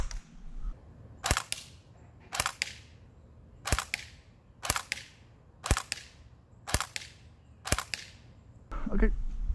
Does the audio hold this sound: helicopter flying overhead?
no